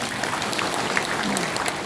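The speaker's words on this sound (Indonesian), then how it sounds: "Tepuk tangan buat kita semua." Brief burst of audience clapping at a motivational talk on work and leadership, an even, continuous patter that holds steady for under two seconds.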